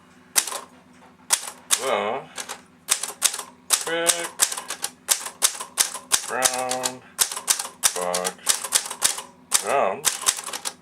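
Keys clack in quick bursts on a vintage Commodore typewriter, close and crisp, with short carriage-like rattles between words while someone speaks over the typing.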